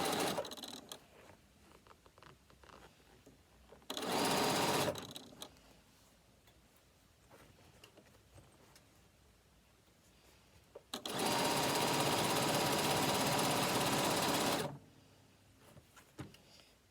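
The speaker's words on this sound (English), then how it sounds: "I would press my binding over before I stitch it down" A sewing machine stitches binding onto a bag in two quiet bursts, a short run and then a longer steady whirr, with soft handling noises in the pauses between them.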